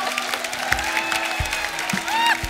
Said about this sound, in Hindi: और एक जोरदार तालियां इनके लिए।